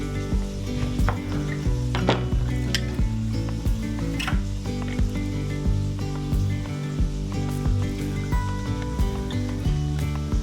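Chicken browns in a hot pan with a loud, continuous sizzle, along with stirring scrapes and occasional pan knocks over a steady tonal background.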